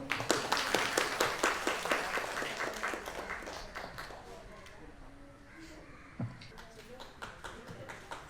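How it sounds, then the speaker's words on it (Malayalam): Guests at a baby's naming ceremony clap in a quick, lively burst that thins and fades to scattered claps, with people talking underneath. "എല്ലാവരും ഒന്ന് കൈയടിച്ചേ"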